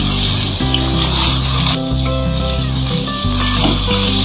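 Onions frying in a pan as ginger garlic paste is added for a chana dal gosht curry, a loud close sizzle throughout with scraping stir strokes and a brief drop partway.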